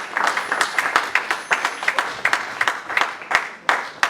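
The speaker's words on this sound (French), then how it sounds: "Acclamons très fort pour la gloire de Dieu" A church congregation claps loudly in dense, continuous applause that fills the whole stretch, with a few faint cheers mixed in.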